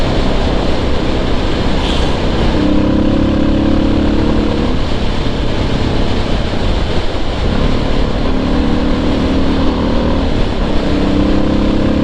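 A Suzuki DR650 dual-sport motorcycle, lightly modified, ridden on a cold January day. Its engine hums steadily throughout, rising and falling slightly with speed against a constant rush of wind noise, and no one speaks.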